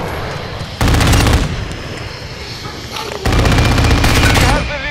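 Call of Duty: Modern Warfare II automatic gunfire rips out in two loud, sustained bursts close up, separated by a short lull with background game noise.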